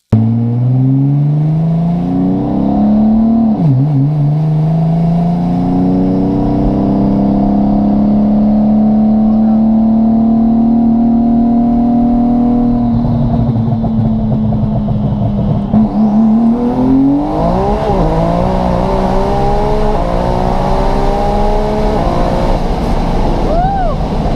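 A 1600 hp Nissan GTR on radial tires pulling hard on a street run, the engine roaring loud and rising through long gears with sweeping pitch swings at each shift, heard from inside the car with wind noise.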